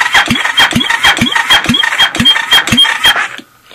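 A 1986 Honda TRX200SX engine cranking over on a weak battery for a compression check, loud and close with about a dozen even, rhythmic starter-driven chugs, then stopping abruptly.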